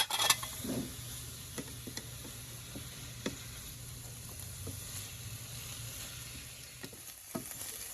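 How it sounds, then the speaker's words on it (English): Yellow bell peppers sauté in a pan for Pixar-style ratatouille, giving a steady, soft sizzle with scattered light ticks and stirring taps, fairly quiet throughout with a brief clatter near the start. "now we're going to saute this for about 10 minutes until it's soft"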